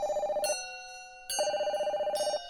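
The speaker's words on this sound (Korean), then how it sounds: "그리고 그날 밤 친구에게서 전화가 걸려왔다." A telephone rings in two electronic bursts of rapid trilling tones separated by a short pause, clear and fairly close with no talk.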